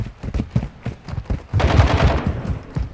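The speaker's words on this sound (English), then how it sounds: "Oh yeah, we can shoot through the walls." Rapid gunfire in the video game Modern Warfare 2, with bursts of sharp shots in quick succession followed by a dense, sustained volley, loud and close.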